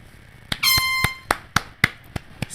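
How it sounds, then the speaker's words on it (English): A short blast from a small air horn, a bright harmonic tone lasting under a second, surrounded by several sharp clicks and knocks. "Small air horn."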